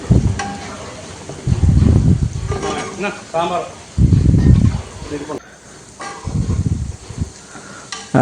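Ivy gourd frying in oil in a large batch for 500 people, a bubbling sizzle heard under someone speaking at intervals, with stirring noises in between.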